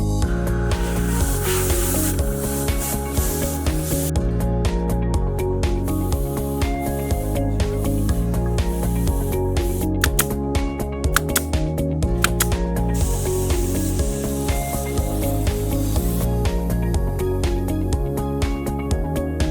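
An oil-free air compressor drives air through a connected hose, a loud, steady motor drone with a continuous airy hiss and occasional brief clicks throughout.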